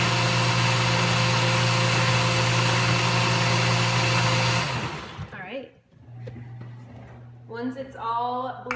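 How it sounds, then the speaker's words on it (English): Blender pureeing butternut squash soup in a home kitchen: a loud, steady motor whir runs close by for about five seconds, then winds down, followed by a quieter hum and a person talking. "Once it's all blended into a nice puree"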